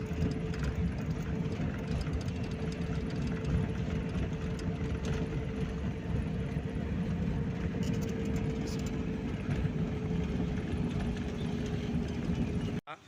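A car's engine hums steadily from inside the cabin as it winds along a twisting mountain road near Pokhara, Nepal, a low constant drone with faint road noise and no talking.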